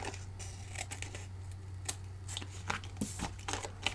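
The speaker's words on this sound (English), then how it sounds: "So I'm going to cut this excess off." Scissors trim excess paper from a handmade rainbow butterfly card, giving quick, close snips and crisp paper rustles in an uneven rhythm. A low steady hum sits underneath and no one speaks.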